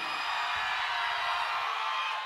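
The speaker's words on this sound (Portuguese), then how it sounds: "Quem acha que foi a número 1, dá um grito" A party crowd yelling and whooping for contestant number one at a DJ event, a dense sustained roar of many voices that holds steady throughout and stops abruptly at the end.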